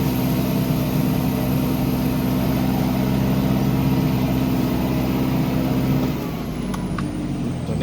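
An off-road vehicle at an off-road event in Satuek, Buriram, with a loud, steady engine rumble that drops off sharply as it brakes near the end, leaving a quieter idle and a faint high whine.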